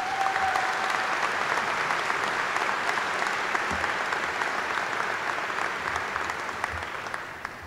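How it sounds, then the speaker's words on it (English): Steady, dense applause from a large arena audience at a high school graduation ceremony fills the space for several seconds, holding an even level from start to finish. "If we could give them a round of applause"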